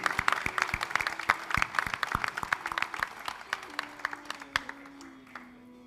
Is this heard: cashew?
no